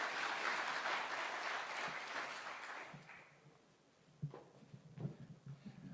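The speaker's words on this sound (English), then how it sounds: "A round of applause," Audience applause at an official launch event in Kiambu: a dense, loud wash of clapping that swells then tapers off over several seconds, leaving a few scattered claps and faint crowd murmur at the end.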